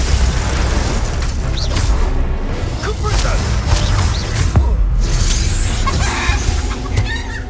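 A Bombarda blasting spell from Hogwarts Legacy goes off amid a dense, loud wash of booms, bursts, whooshes and mechanical clatter that barely lets up.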